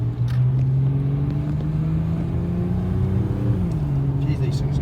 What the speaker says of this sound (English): Geez, these things go good. These 4-litre Falcon motors.